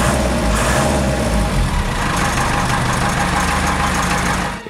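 A Land Rover Series 3 short-wheelbase engine idles steadily close by, a low, even mechanical rumble that holds without revving for a few seconds.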